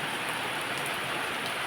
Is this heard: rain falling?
yes